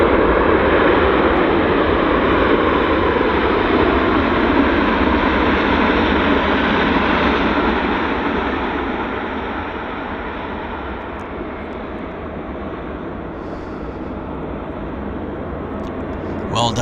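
Air North airliner landing on runway 08 left at Vancouver International, a steady broadband engine roar and rollout rumble that holds loud, then eases and fades slightly in the second half, heard at a distance without talk.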